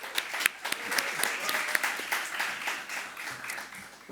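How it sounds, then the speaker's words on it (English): Audience applause welcoming a singer-songwriter to a fireside chat, a steady, dense wash of many hands clapping at moderate distance with a few sharper claps, sustained throughout without voices. "with a please, huge round of applause"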